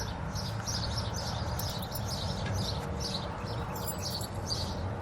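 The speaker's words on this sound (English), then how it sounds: "even the birds sing when they see the Thunderbird" Birds chirp and sing in repeated bright bursts over a steady low rumble of background noise, fairly faint and continuous.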